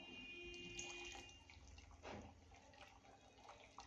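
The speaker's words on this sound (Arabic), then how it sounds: "نفضي المية على الاسمنت." Water poured onto cement mix for a mosaic mirror makes a soft, steady splashing trickle, faint and continuous with a slight surge partway through.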